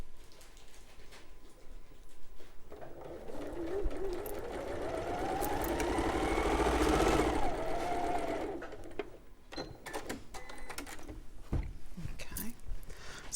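A domestic sewing machine stitches quilt strip sets in one long continuous run, its motor whirring up in pitch and back down, with fabric rustling and small handling clicks before and after.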